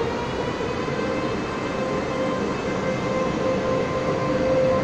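Steady, close rumble and hum of an EMU electric commuter train at Xinzuoying station in Taiwan, a continuous drone with a faint tonal whine throughout and no talk.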